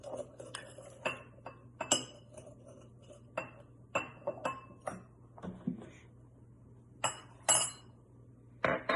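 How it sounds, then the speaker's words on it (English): Orange juice being measured out in a kitchen with glassware: sharp glass clinks and taps, some in quick clusters, set against a low steady hum, near and fairly crisp, with no voices. "I'm going to go ahead and do the orange juice because we need 3/4 cup of orange juice."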